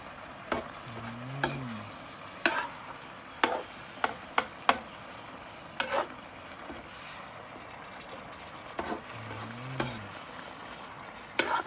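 Sporadic sharp clanks and scrapes of a utensil against an electric pan while stir-frying vegetables, with a faint sizzle underneath and no talking.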